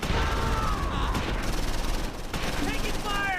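Platoon rifle and machine-gun fire in Close Combat 4 as troops open up on advancing German infantry at the Siegfried Line, a dense, continuous crackle of shots held steady and loud throughout.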